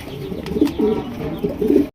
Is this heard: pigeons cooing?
yes